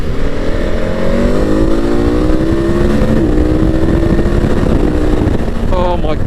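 A 2021 KTM Super Adventure motorcycle accelerates hard, its engine note rising through the gears with a loud, close, continuous roar and strong wind rush, and no talking.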